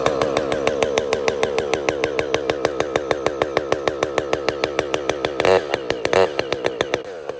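A chainsaw is pull-started on choke, giving a long run of steady, evenly spaced pull strokes and two brief sputtering pops near the end; the sound is loud, close and continuous, with no talk.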